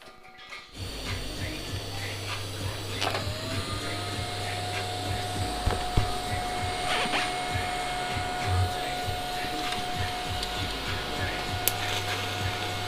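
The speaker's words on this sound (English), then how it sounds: "I'll just have to use the TIG welder." A TIG welder welding off a broken header bolt, a steady electric hum and hiss with a faint tonal whine, under occasional low talk.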